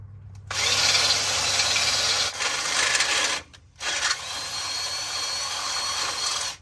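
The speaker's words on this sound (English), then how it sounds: "We're gonna go ahead and drill us a hole through here." A power drill bores a hole through metal during a 7.5-inch coilover lift kit install, a loud close whirring grind that runs steadily, stops briefly, then resumes and continues to the end.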